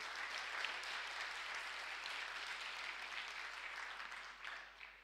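A church congregation claps for two members celebrating birthdays, a steady, dense wash of applause filling the hall without a break, fairly soft and distant, with no talking over it.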